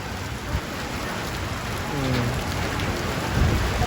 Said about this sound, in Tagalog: Oo, lakas ang ulan, oh.